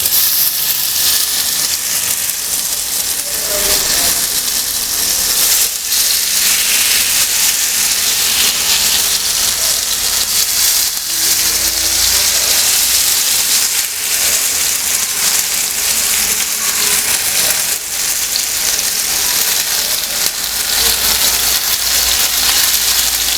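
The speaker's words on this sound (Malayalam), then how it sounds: "ഇനി ഇതിലേക്ക് നമുക്ക് ടിക്ക ഇങ്ങനെ വെച്ച് കൊടുക്കാം" Soya tikka pieces frying in about a tablespoon of hot oil in a pan, a dense, continuous hissing sizzle that stays loud and even throughout, with no voices over it.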